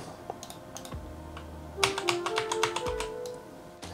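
Computer keyboard keys are pressed in a quiet room, first with a few sparse clicks, then a quicker cluster of taps, over faint sustained synth notes.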